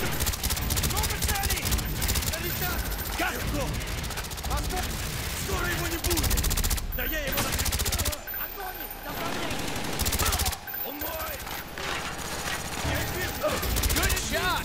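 Dense automatic gunfire from a Call of Duty Black Ops match, loud and nearly constant with brief lulls, mixed with game radio chatter and voices calling out throughout.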